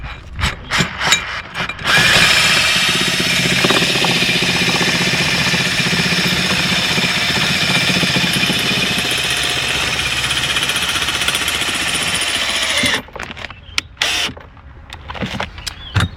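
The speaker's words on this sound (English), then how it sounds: "Grab the cordless drilling machine." A cordless drill spins a nut down while vandal-proofing a bee hive, a loud continuous motor whine running for about eleven seconds, bracketed by short clicks and handling noises at the start and end.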